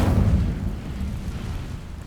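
Hogwarts Legacy video game Incendio fire spell setting dry vines alight: a deep, rumbling whoosh of flame that starts loud and steadily settles into a lower roar.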